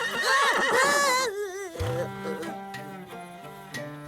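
A Mongolian horse whinnies loudly with a wavering, descending call, then gives a lower, fainter snorting whinny that trails off.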